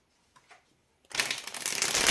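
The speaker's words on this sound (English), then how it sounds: "let me give this one more shuffle." Tarot cards being shuffled: a few soft taps, then a loud, continuous riffling flutter of cards that runs to the end, close up with no talking.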